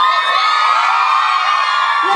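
A crowd at a holiday party concert in San Jose cheers and shouts loudly, a sustained wall of voices and whoops close by for the whole stretch.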